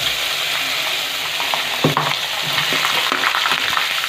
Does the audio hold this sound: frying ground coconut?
yes